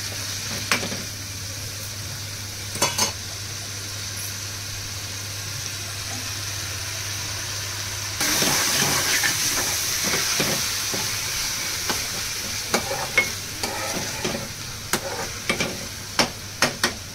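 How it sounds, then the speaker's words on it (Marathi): Masala for a fresh cashew curry roasts in oil in a pan, hissing steadily. Partway through the sizzle grows louder and brighter, then a spoon scrapes and taps in scattered strokes, close by. "साधारण 2-3 मिनिटं जरा मस्त भाजून शिजवून घेऊया आपण"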